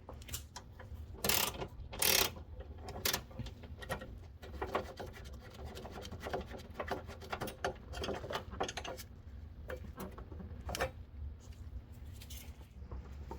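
A ratchet works a 10 millimeter bolt loose on a 2008 Acura MDX engine bay, giving quiet, irregular clicking pawl bursts mixed with faint metallic scrapes and handling noises, no talking.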